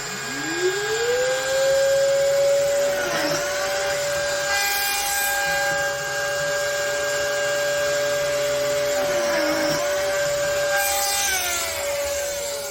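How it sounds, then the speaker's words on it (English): Lamello Divario joining machine cutting grooves in wood: a steady motor whine spins up and runs throughout, with two distinct plunge cuts into the workpiece a few seconds apart, close and loud. "have the edge of the machine on each side, plunge in and create the 18 groove"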